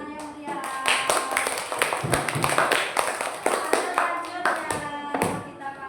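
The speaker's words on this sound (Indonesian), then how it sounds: "Berikan tepuk tangan yang meriah." An audience claps for a presentation, uneven individual claps and taps close by, with voices speaking over the clapping.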